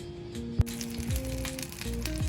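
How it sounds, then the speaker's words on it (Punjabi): A tadka tempering hitting hot oil for a chutney: a short burst of sizzling with a sharp crackle early on, followed by steady frying hiss and a faint hum. "ਇਹਨੂੰ ਵੀ ਆਪਾਂ ਸੇਮ ਤੜਕਾ ਲਗਾਵਾਂਗੇ"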